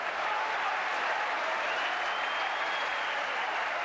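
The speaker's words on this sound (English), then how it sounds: "That's something for the crowd to applaud." Football crowd at a Bury FC match breaks into steady applause after a shot goes just wide, a broad continuous wash of clapping heard from a distance for the whole stretch.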